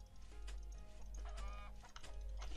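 Chickens in the Roblox game Skyblock cluck in short, busy bursts over a constant low hum and faint background tones, fairly quiet.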